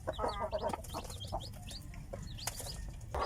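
Native chickens clucking around a rural farmyard, repeated short clucks and calls from several birds at moderate distance over a low background rumble, no talking.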